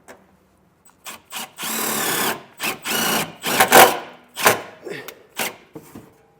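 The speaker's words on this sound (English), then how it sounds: "I'll take a self-tapper and I'll drive it in right there." A power drill drives a self-tapping screw to fasten a trailer brake controller ground wire on a 2024 Toyota, in several loud whirring bursts of varying length separated by short pauses.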